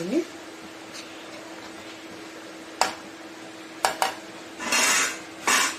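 Metal spoon scraping and clinking against a pan while stirring cabbage fry, a few sharp taps and a brief scraping swirl over a low background hum, close by.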